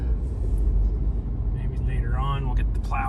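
A Ford F-250 diesel truck engine rumbles low and steady throughout, near and continuous, while a person speaks over it toward the end.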